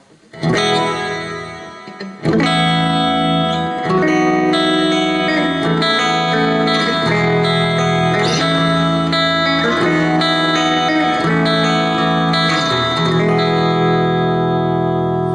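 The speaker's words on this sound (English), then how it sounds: "And finally, the reverb. I think this is digital as well." An electric guitar through a Boss digital reverb pedal into a Roland JC-40 amp plays sustained chords and notes drenched in reverb, with long shimmering tails after a short quiet start.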